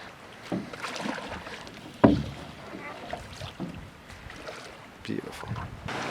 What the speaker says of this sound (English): paddle on the other side.